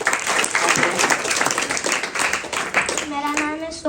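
An audience claps together in a lively burst of applause that runs steadily for about three seconds before a voice cuts in at the end.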